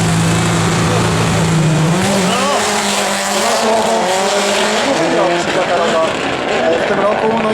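Rally cars roar and slide through the Barbórka Warszawska stage in Warsaw, loud engine revs rising and falling with tire squeal close by as an excited commentator speaks in Polish.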